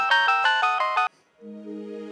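A phone ringtone plays alone as a loud, pulsing melodic ring for about a second, cuts off, then a softer steady tone follows.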